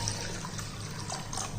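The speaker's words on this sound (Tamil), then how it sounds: "இப்போ தண்ணி ஊற்றிக்கிடுவோம்." Water pouring steadily into a bowl of soaking black rice, a close, continuous splashing gush with no talk.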